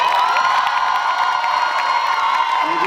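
A large crowd at a high school graduation ceremony cheers loudly for the graduates, a dense continuous roar of shouts and whoops filling the space.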